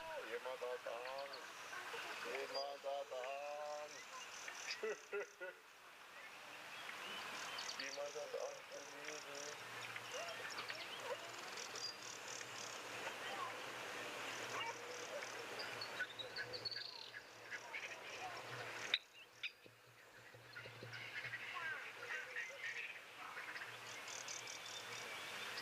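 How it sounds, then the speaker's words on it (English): A dense morning chorus of weaver birds and spurfowl at Okaukuejo waterhole in Etosha, Namibia, with continuous chattering, buzzy calls and harsh cackles mixed together at moderate distance. "So quite a cool morning chorus of weavers and"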